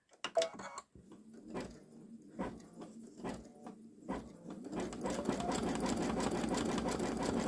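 A Babylock Solaris Vision embroidery machine stitches a wide satin stitch, first in slow, spaced clicking stitches, then speeding into a steady, fast mechanical whirr and patter, close and fairly quiet with no talk.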